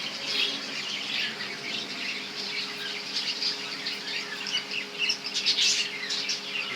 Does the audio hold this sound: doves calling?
yes